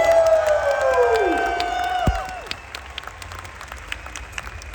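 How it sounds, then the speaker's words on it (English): A festival crowd at a vegan camp out applauds and cheers loudly. The clapping and whoops are steady at first, then fade over the last few seconds. A descending tonal sweep runs through the opening. "let's have a big round of applause for progress"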